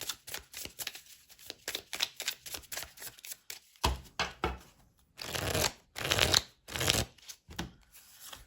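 Tarot cards shuffled and drawn from a deck, a dense run of quick riffling flutters and crisp card snaps at close range, with short bursts separated by brief pauses and no talking.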